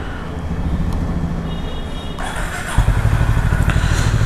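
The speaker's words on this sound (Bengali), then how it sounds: "তো চলো স্টার্ট দেওয়া যাক বাইকে।" A new Royal Enfield motorcycle engine starts up: a steady idle rumble steps up midway, then turns into a loud, deep, throbbing run close by.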